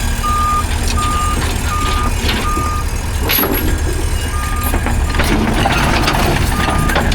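A truck reverses at an equipment auction, its loud evenly spaced backup beeps pulsing over a rumbling idling engine and outdoor noise.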